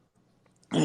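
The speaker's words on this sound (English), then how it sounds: "I apologize for my dog." A single short dog bark or huff, close and abrupt, after a moment of near quiet with faint background noise indoors.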